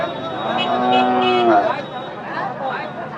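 Cattle low and moo at a Bangladeshi cow market, one long, strong call rising then breaking off, followed by quieter lowing amid distant market crowd chatter.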